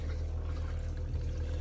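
Water runs steadily from the drains of an RV travel trailer's tanks, a continuous low pouring rush that holds at an even level throughout, with no voices.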